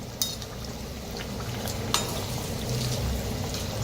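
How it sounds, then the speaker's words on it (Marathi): Kadhi vada pieces fry in hot oil with a continuous soft sizzle and bubbling, broken by a few sharp clinks of a utensil against the pan. "तर मस्त असं तळायला लागलेले आहेत."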